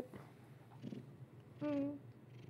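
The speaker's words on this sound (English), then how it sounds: "I like the purring." A cat purrs close by in a quiet room, a low, steady, soft rumble that runs throughout, with a brief higher tonal note rising near the end.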